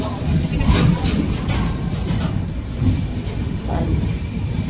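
A passenger train heading to Bangalore rumbles steadily from inside the carriage, with low rolling noise and faint clicks and squeaks, loud and continuous throughout.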